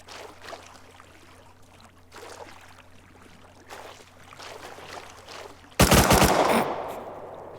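Gunfire in the survival game Rust near an island base, a sudden loud burst of rapid automatic shots that breaks in after quieter ambient movement and trails off into a fading wash.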